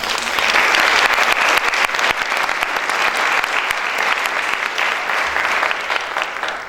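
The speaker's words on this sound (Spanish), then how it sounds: "Les pido un aplauso para él, por favor." Audience applause at a university architecture conference talk, a dense sustained burst of clapping from a sizeable crowd, loud and even throughout.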